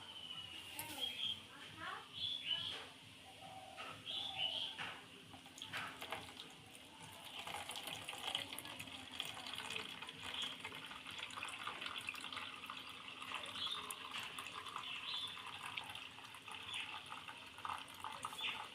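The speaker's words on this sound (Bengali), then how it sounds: "জলটা থিতিয়ে গেছে ভালোভাবে আবারও জলটা পাল্টে দেব" Water running and splashing in a kitchen sink while homemade corn flour is rinsed and the water is changed; a steady close wash of flowing water continues throughout, with a voice speaking over it.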